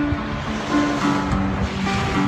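Ocean waves wash steadily onto a beach, a continuous even surf hiss with soft swells rising and falling and no voices.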